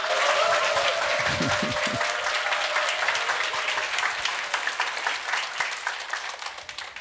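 A church congregation at a Sunday worship service gives loud, sustained applause, with a brief voice near the start, then a dense wash of clapping that thins slightly toward the end.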